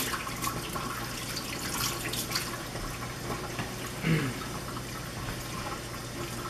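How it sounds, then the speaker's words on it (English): Running water from a tap as steelhead fish are rinsed of leftover brown sugar, a steady splashing flow with occasional handling splashes and faint background voice. "the reason I rinse these fish is to get any leftover brown sugar"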